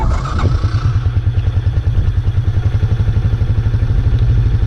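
A Honda TRX 200SX ATV engine catches after a brief crank and settles into a steady, rapidly pulsing idle, close and fairly loud with a clattery mechanical beat and no talking.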